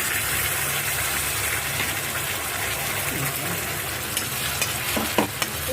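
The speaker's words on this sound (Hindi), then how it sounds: "प्याज हो गया तो इसके अंदर अब हम डाल देंगे टमाटर का पेस्ट जो हमने बनाया था।" Tomato paste frying with browned onions in a pan for fish curry, giving a dense, continuous sizzle with a few sharp stirring clicks and scrapes near the end.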